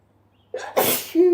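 A person sneezes once, loud and close: a sharp intake of breath and a forceful burst, followed at once by a short voiced 'oh'-like exhale.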